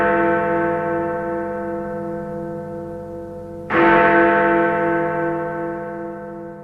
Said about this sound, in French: Je fus réveillé par les cloches de la chapelle qui sonnaient minuit.